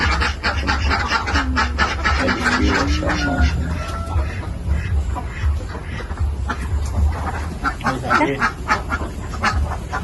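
Ducks quacking and calling in a crowd on a duck farm in Pituruh, Purworejo, a dense continuous chorus with a steady low rumble underneath and some faint voices mixed in.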